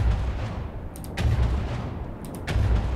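Cannon shots in the naval combat game From The Depths, fired from a soft bass cannon: three heavy booming reports spaced about a second apart, each a deep thump with a sharp crack, over a low rumbling background.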